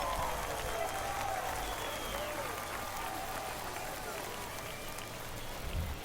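Crowd clapping and cheering in the baseball video game MLB The Show 23, a steady wash of stadium applause with a player talking over it.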